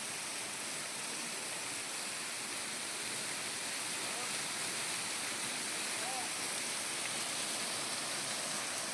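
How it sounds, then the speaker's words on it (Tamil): Mayil Ootru waterfall at Ladapuram, Perambalur, rushes in a continuous hiss of falling water, moderately loud and even throughout, with no distinct voices standing out over the flow. "இதான் மயிலூற்று அருவி."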